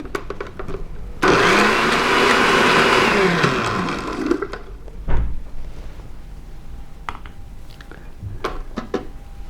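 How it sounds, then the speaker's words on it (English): A countertop blender blends an almond butter banana smoothie with maple syrup: a loud, steady motor whir for about three seconds that then cuts off, followed by a thud and a few small clicks and knocks. "let's give it a blend"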